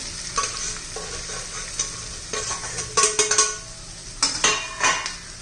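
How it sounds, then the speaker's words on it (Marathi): Besan-coated okra frying in a spoonful of hot oil, with a steady close sizzle and crackle, several louder bursts of spattering, and light scrapes of a spoon against the pan. "त्यामध्ये आता बेसन लावलेली भेंडी घालून घ्यायची आहे."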